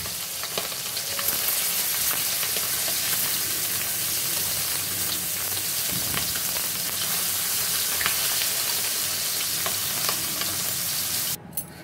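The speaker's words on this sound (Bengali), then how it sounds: "দেখো মাছগুলো এক পিঠ ভাজা হয়ে গেছে, তাই উল্টে দিলাম আর এক পিঠ ভাজার জন্য" Chital fish frying in hot oil in a pan, a steady dense sizzle and crackle running throughout with stirring and scraping as the pieces are flipped, loud and close, ending abruptly.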